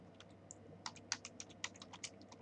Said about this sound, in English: I'm gonna type right now